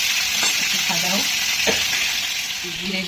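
Potatoes, cauliflower and carrot frying in oil in a pan, a constant loud hiss and sizzle with a few soft scraping stirs rising through it.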